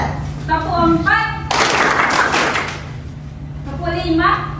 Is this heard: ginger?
no